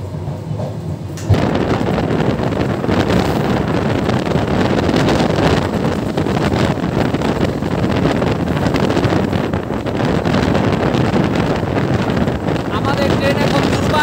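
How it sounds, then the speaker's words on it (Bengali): The Modhumoti Express from Dhaka to Rajshahi runs at speed, heard from inside as a loud, continuous roar and rattle with strong wind rush throughout. "আমাদের ট্রেন এখন দুর্বার গতিতে যাচ্ছে"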